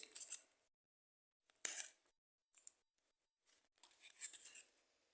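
Crinkly plastic rustling and tearing as a Milka Boom packet is opened, in a few short bursts separated by silences, close and fairly quiet.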